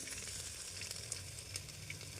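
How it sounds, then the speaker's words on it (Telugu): Tomatoes fry in a pan for bagara rice, giving a steady, close, quiet hiss of sizzling oil with occasional small pops and no talking. "టమాటాలు వేసుకోవాలి."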